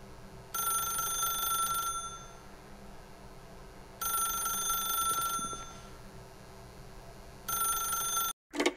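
A telephone rings in the video game The Stanley Parable, three bursts of a bright electronic ring a few seconds apart over a low room hum, ending with a brief click.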